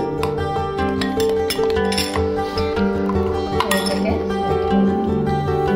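A metal spoon clinks repeatedly against a glass or jug while custard powder is stirred into muskmelon juice, bright rhythmic taps close by beneath steady background music and someone speaking.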